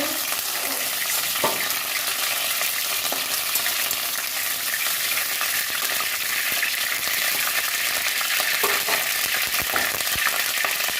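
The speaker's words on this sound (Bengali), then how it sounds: "ভেজে নেব ফুলকপি" Cauliflower frying in hot oil, a steady loud sizzling hiss that carries on without a break, with occasional light knocks of a spatula stirring the pan.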